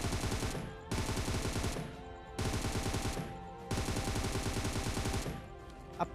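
Automatic gunfire from a gun with its light grip removed in the PUBG Mobile video game: four long, loud, rapid-fire bursts separated by brief gaps, with no talking.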